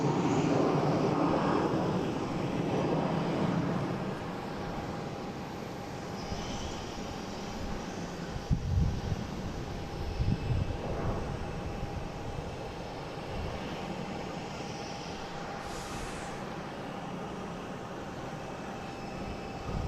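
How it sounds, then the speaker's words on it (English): An Airbus A330-300 airliner at Boston Logan airport, a steady distant roar of jet engines filling the whole stretch, swelling slightly at times, with no voices over it. "This is flight 242, A330-300 heading to Amsterdam."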